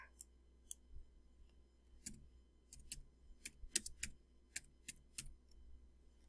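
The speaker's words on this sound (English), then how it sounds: "I'm just going to type" Sparse, faint clicks of a computer keyboard being typed on, irregular single keystrokes scattered over several seconds in a quiet room.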